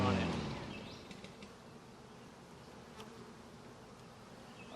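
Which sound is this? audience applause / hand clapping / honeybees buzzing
honeybees buzzing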